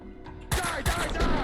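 Gunfire in the video game Max Payne 2: a few sharp, loud shots in quick succession after a brief quiet lead-in, with a faint voice underneath.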